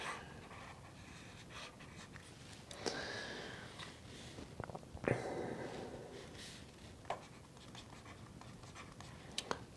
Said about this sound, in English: So I'm gonna draw that graph here.